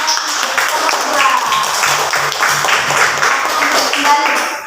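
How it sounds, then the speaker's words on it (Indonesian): Classroom students clapping for group two, a lively, fairly close burst of many hands with a rhythmic pattern in places, sustained for several seconds, with some voices mixed in. "Tepuk tangan untuk kelompok dua."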